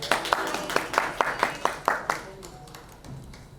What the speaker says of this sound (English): With a huge round of applause, let's welcome her.